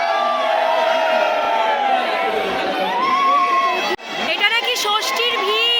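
A dense festival crowd fills the streets around the Durga Puja pandals in Kalighat on Shashthi, a loud wash of overlapping chatter and shouts with occasional whoops, close by and continuous, with a brief dip near the end.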